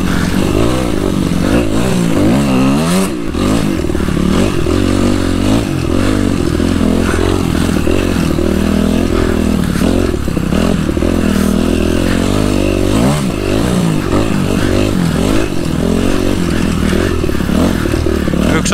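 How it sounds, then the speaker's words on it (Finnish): Suzuki RMZ 250 motocross bike ridden hard, loud close engine roaring and revving continuously with rises and falls in pitch and some clattering along the track. "se on ihan niinku mielettömästi vauhtia tällä pyörällä."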